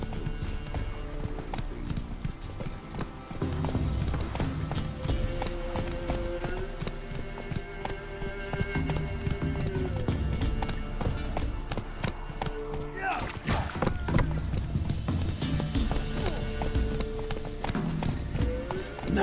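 Roach, a horse in The Witcher 3, gallops with steady, rapid clip-clop hoofbeats throughout, set against game music and ambience, with a brief whinny and some talk mixed in.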